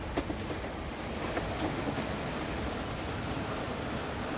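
Rain falls steadily outdoors, a dense even hiss with scattered close drops, loud and unbroken without any voices.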